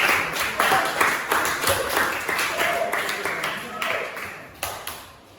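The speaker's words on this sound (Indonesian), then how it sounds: "kita beri aplaus untuk kelompok" A group of students in a classroom is applauded, with scattered clapping spread across the whole stretch at a steady, moderate loudness and a few sharper claps standing out near the end, under some background voices.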